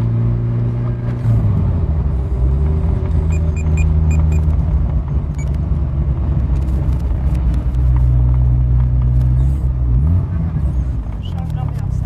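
A 1985 Ferrari 308 GTSi, heard from inside the car, pulls away in first gear with a loud, close engine drone that climbs in pitch, settles, then rises again near the end.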